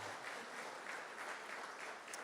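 Congregation applauding in a church service, a faint, even wash of many hands clapping heard from a distance with no speech.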